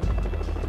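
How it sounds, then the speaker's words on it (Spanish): A helicopter boss in the PS1 game Jackie Chan Stuntmaster makes a steady low rotor thrum with fast rhythmic chopping, loud and close for under a second. "No me digas que el jefe es un helicóptero y que me va a disparar."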